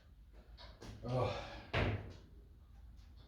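A camper van's sliding door is lifted and set onto its wheel slots, giving two heavy thunks about half a second apart amid quiet shuffling, with a man briefly exclaiming.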